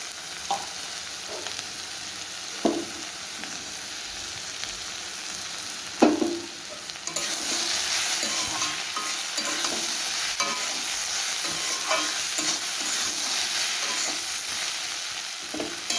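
Papaya curry cooking in a pan as a spoonful of ghee goes in, a steady broad sizzle that grows louder partway through, with a few spoon clinks and stirring scrapes scattered across it.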